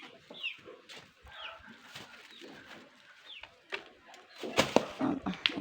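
Several chickens cluck and squawk nearby in irregular bursts, growing louder and busier toward the end.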